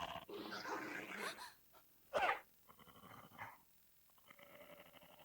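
Dogs in an anime episode growl and whimper, with one sharp, loud bark in the middle and softer yelps and snuffles around it.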